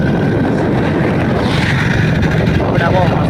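A boat moves on the water with a steady, droning rush of engine and wind noise that stays constant throughout, with some buffeting against the microphone.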